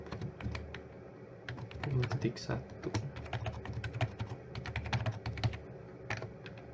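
Typing on a computer keyboard during network router configuration, with quick irregular bursts of close key clicks over a low background hum.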